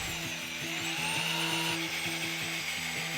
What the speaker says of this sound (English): I got the 320 grit wheel on and we can just start by sanding.